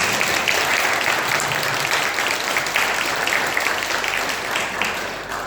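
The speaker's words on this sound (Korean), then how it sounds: "우리 주님께 영광의 박수를 올려드립니다" A church congregation at a Sunday worship service breaks into loud, continuous applause, a full, dense clapping that holds steady throughout and eases slightly at the end.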